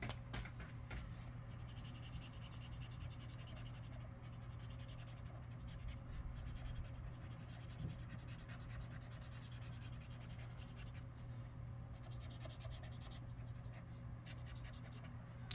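Steady soft scratching and rubbing of a blender pen on paper, continuous and close, over a low constant hum, with no talking.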